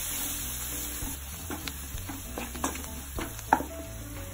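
Coriander, garam masala, pepper, turmeric and chilli powders with black salt and soy sauce frying in a pan for street-style hakka noodles: a soft sizzle with scattered spoon clicks and scrapes, quiet and without talk.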